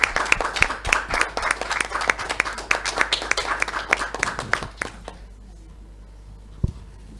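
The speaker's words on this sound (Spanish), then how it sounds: "Un aplauso entonces para ustedes." A live audience breaks into brisk, close clapping with sharp individual claps that run for about five seconds, then stops abruptly, leaving near-silence with one last faint knock.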